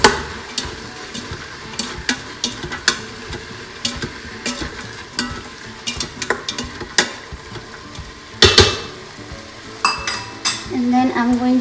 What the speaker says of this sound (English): And then give it a stir again.